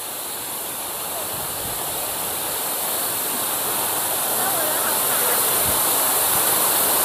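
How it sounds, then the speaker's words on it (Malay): Waterfall at Gunung Lang recreation park, a steady broadband rush of falling water that grows slightly louder and continues unbroken, with no voices over it. "Ada air terjun tu."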